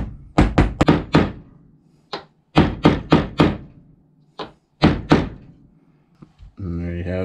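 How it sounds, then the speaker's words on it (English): A rubber mallet lightly taps a wooden dowel pin into a DIY Xbox controller stand, giving close, dull thumps in quick clusters of three or four with short pauses between, and a brief voice at the end. "If you can't get it to go all the way, you can use a rubber mallet. But be very careful. Light taps"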